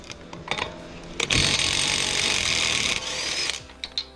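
An impact wrench spins off the 32 mm CV axle nut on a 2016 Dodge Journey R/T, a loud whirring burst of about two seconds framed by clicks and clanks of the socket and tools.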